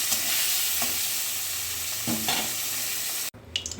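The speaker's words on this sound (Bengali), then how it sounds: "এই যে নুন দিয়ে দিলাম, হলুদ দিয়ে দিলাম, ভেজে নিচ্ছি ভালো করে" Fish, a bata rui-type river fish seasoned with salt and turmeric, frying in oil in a pan, giving a steady close sizzle with a few stirring scrapes before cutting off abruptly near the end.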